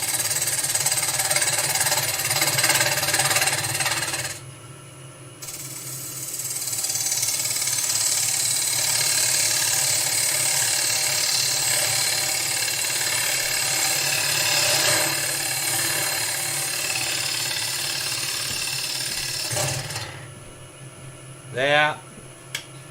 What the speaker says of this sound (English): turn my speed up a bit, back to me sort of 1000 RPM, just gentle cut, pick this up, just travel the tool in